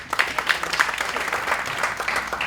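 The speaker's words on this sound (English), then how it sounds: "Give a round of applause." An audience at an education-technology talk breaks into a steady round of applause, dense overlapping claps sustained at even loudness throughout, with no voices on top.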